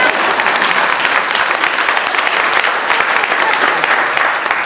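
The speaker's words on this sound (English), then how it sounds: "You can clap." An audience at a political talk breaks into brisk applause, a dense, loud, even wash of many hands clapping continuously for a few seconds.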